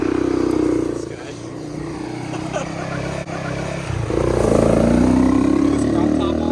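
Honda ATC 200X three-wheeler engine idling and revving up nearby, a steady engine drone that rises in pitch and loudness near the end, with people talking over it.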